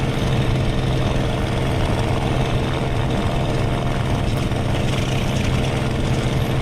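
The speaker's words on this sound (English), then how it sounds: "my engine's starting to yell at me" A fighter plane's engine strains in the Aces of Thunder combat flight game, a dense, unbroken drone holding at a constant loud level throughout with no talking.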